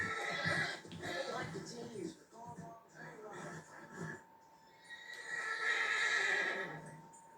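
A horse neighs loudly, close by, in a video game, with a second long whinny a few seconds later, over some faint hoof clatter and background voices.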